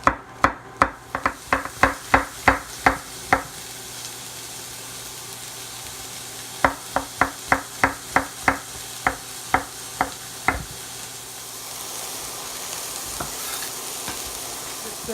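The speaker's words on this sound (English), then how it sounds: "Stir in my mushrooms and let these start to cook down a little bit." Sliced mushrooms being stirred in a pan for a turkey meatloaf, two bursts of sharp, rhythmic spoon scrapes and clacks near the mic over a steady low sizzle that continues alone afterward.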